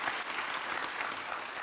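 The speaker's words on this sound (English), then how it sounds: "Why would you clap for that?" Audience applause: a brief, even burst of many hands clapping in a hall, moderately distant and steady throughout.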